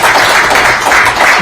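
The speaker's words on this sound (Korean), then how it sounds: "박수를 받아주십니다" Applause from an audience at a civic group's founding event and discussion panel in 2022, a brief, loud, dense burst of clapping with no speech over it.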